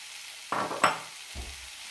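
Yam flower pieces drop into a hot pan for a masala curry, giving two quick sizzling hits followed by a softer low stir, close and brief with no talking.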